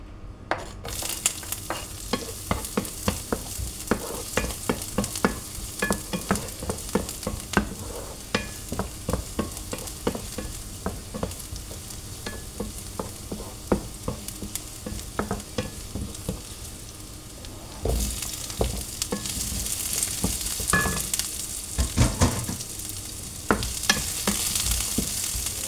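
Chopped garlic and onion sizzle in a hot pan while a utensil stirs through them in frequent scraping taps. The frying hiss swells louder toward the end, and no one speaks.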